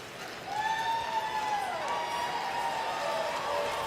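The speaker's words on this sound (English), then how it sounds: "And the crowd starts to buzz here." A crowd at a world men's curling championship match begins to murmur and buzz, with a steady rising hum of many voices. A stone or sweeping whine glides across it.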